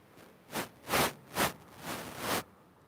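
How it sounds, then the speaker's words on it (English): Ocean waves washing onto an oceanfront shore, with several soft broadband surges rising and falling over a few seconds, close and moderately loud, no voices. "We always take a moment just to soak up the sound of the ocean"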